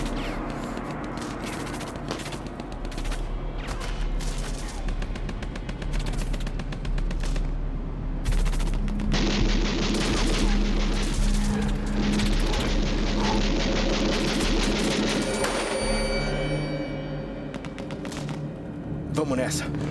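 Sustained bursts of gunfire crackle loudly throughout, dense and overlapping like a firefight, with voices occasionally audible beneath the shooting.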